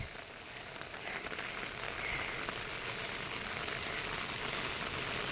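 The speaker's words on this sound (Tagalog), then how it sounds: "kahit it's raining" Steady rain pours at Igorot Stone Kingdom in Baguio, a dense, even wash of droplets on surfaces that continues without a break, moderately loud and close.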